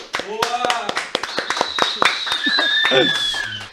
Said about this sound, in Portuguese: eu quero uma salva de palmas pra gente começando